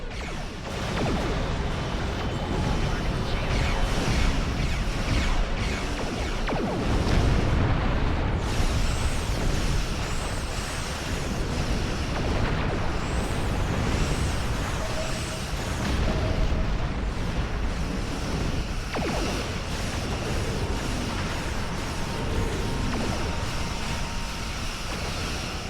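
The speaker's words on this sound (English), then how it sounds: "Warning, ship is under attack." A starship in a video game comes under weapons fire, with a continuous loud roar of explosions and impacts rumbling throughout and faint high chirping tones over the din.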